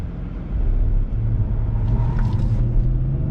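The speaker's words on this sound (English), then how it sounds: "I do want to see what this car can get from a dead stop" A 2017 BMW 540i pulls away hard from a standstill, its engine rumble swelling into a strong, steady roar for a few seconds, heard from inside the car with no talking.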